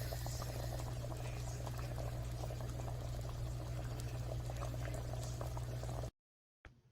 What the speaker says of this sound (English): The gumbos are cooking.